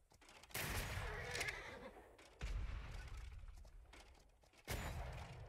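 Heavy cannon fire in a naval combat game: three loud, booming blasts spaced roughly two seconds apart, each with a long rumbling decay.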